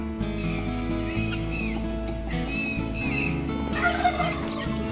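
Turkeys gobbling on a poultry farm, several bursts of gobbling from nearby birds over a steady low background, with faint voices at times.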